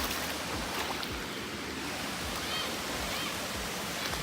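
A waterfall heard outdoors, a constant hissing rush of falling water filling the whole moment with a steady roar and no breaks, fairly even in level throughout.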